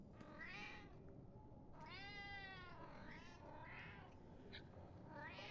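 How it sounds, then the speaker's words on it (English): A cat meows several times, long drawn-out wavering calls spaced a second or two apart, heard faintly over a steady background hiss. "I was wondering what the cat wanted."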